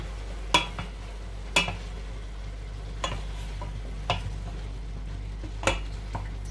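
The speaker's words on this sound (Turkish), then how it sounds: "Şimdi onları güzelce ben kavurayım." Beans and minced meat sizzle softly in a pan while a utensil scrapes and knocks against it about once a second, with no talking.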